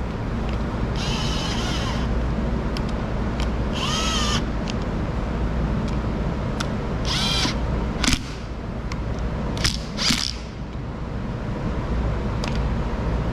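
Short, loud bursts from a power tool fitted with a thin-wall 3/8 12-point socket run down bolts during a shuttle rebuild on a CASE 580 Super E backhoe, each whirring burst separated by pauses and shop background noise.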